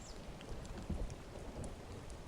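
Rain falls steadily through a small forest in the Ponkunnu Hills of Kozhikode, a soft continuous wash of drops with low rumbling underneath, faint and even.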